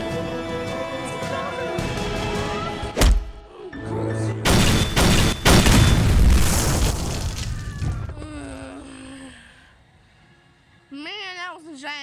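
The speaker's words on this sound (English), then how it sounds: "Man, that was a giant explosion." A big explosion in a Mario video game: sharp booming crashes and a long roaring blast in the middle, fading to quiet, followed by brief cartoon voice sounds.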